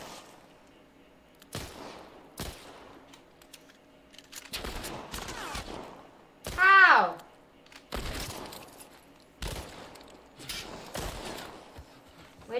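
Scattered gunshots in The Last of Us game, several sharp isolated bursts spaced across the clip, mixed with game sounds and a short shout from a player.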